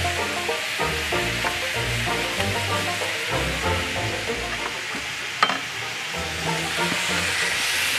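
Prawns with onion and garlic sizzle and hiss steadily in a hot stir fry, with scraping stirring knocks throughout and one sharp clank partway, close and fairly loud with no talking.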